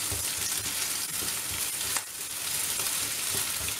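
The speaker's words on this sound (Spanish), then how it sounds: "Lo vamos a mezclar bien con las cebollitas." A spoonful of pâté stirred into onions frying in a pan, giving a continuous close sizzle with soft scraping stir movements and a brief clack partway through.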